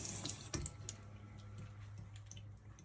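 Tap water runs gently into a sink while a feeding-tube syringe is rinsed, a quiet close trickle with a few soft plastic knocks and squishes, no voices.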